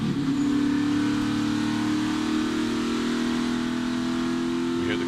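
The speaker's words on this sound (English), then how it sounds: "We hear the cars." NASCAR Xfinity Series race cars run at Indianapolis Motor Speedway, a loud, sustained engine drone with a steady pitch that holds for the whole stretch without talk.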